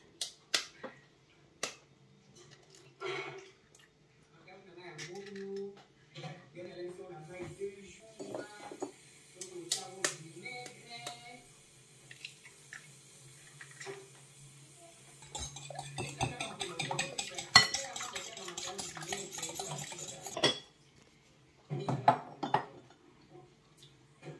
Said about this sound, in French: On casse, donc il y a 2 œufs.